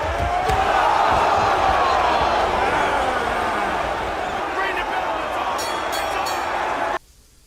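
A wrestling arena crowd in a movie roars loudly and continuously, a dense wall of cheering that holds steady before cutting off abruptly near the end into near silence.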